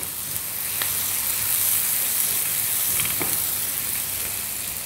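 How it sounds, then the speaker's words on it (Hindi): Chopped onions frying lightly in butter and oil in a pan for chicken bread rolls, a steady soft sizzle with faint crackles throughout, close and continuous with no voices. "अब यहाँ पर हमें प्याज को ना सुनहरी करना है और ना ही ब्राउन करना है, बस हल्का सा हमें इसको फ्राई करना है बस"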